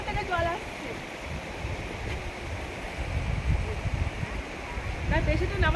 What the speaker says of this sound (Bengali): ওইখান থেকে জল আসছে।